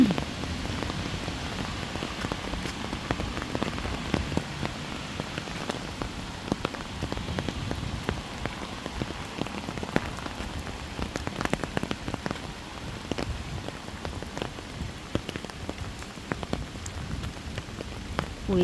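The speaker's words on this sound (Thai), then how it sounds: "ฝนตกนะคะ" Rain falls heavily outdoors, a continuous patter on surfaces with scattered louder drop hits, close and steady for nearly twenty seconds without speech.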